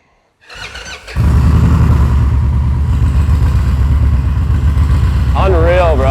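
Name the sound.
custom bagger motorcycle engine starting up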